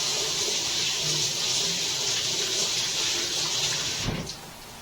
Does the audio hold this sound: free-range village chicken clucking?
no